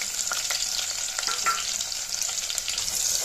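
Sliced onions sautéing in hot oil for veg soya biryani, a steady close sizzle and crackle running throughout, with a few soft stirring knocks and no voices.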